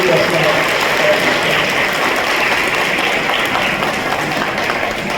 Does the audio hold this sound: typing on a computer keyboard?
no